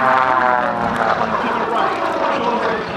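Blue Angels jet airplane flying during an air show, a loud continuous engine roar with a rough, rumbling texture carrying throughout.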